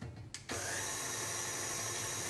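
An electric mixer whirs into pumpkin chiffon cake batter, starting after a brief stutter and then running as a steady, even motor whine, close and alone.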